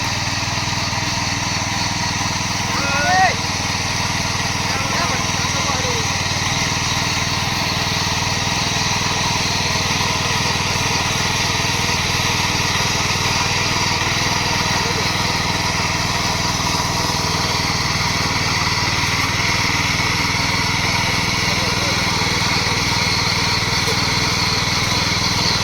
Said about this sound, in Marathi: बघा ही मशीन घेतली नवीन नांगरणीसाठी